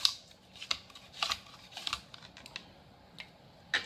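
An onion is sliced on a mandoline, giving a series of quick, crisp slicing swipes at an irregular pace, close up and fairly quiet, with brief gaps between strokes.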